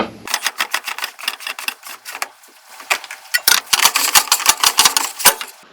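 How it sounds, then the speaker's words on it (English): Pentair Big Blue plastic filter housings are unscrewed by hand, giving a rapid series of sharp clicking and ratcheting taps. The taps are close and loud, sparse at first and then denser, with no talking. "Let's take off the housings here. They just unscrew."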